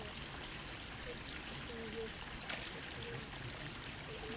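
Water flows and trickles faintly in a creek where a Harris hawk is bathing, a soft continuous babble with a brief splash midway, heard alone outdoors on a chilly January day.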